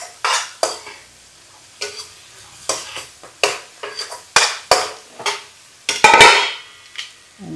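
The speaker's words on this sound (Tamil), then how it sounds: "இப்போ முருங்காயை போட்டு வதக்கிடுவோம்." Drumsticks being sautéed with softened tomato in an oil-filled pan: a run of sharp, close spoon-against-pan scrapes and clinks in an irregular rhythm, with a faint sizzle between strokes and no talking.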